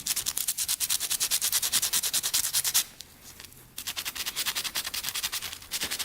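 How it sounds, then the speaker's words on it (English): Sandpaper scrubs rapidly back and forth over the electrical leads of a Honda ATV, a steady rhythmic rasping that runs close and loud, pauses briefly, then resumes at the same quick pace. "Let's clean those up a bit with a little sandpaper"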